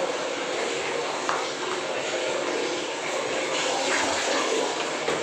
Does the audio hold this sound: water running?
yes